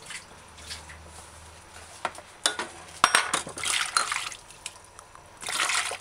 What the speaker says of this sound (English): you'd wash the sprouts the same.